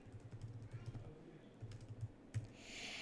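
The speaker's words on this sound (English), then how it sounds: "I just click shift and then the backslash key" Light, quick keystrokes on a Mac computer keyboard come in irregular bursts of clicks, faint and close, with a brief pause partway through.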